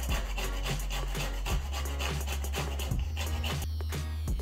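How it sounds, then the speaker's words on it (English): Whole nutmeg being grated by hand for Jamaican sweet potato pudding, a quiet rhythmic rasping of repeated strokes, close up, under low background music. "So I'm using 2 nutmeg, grating them."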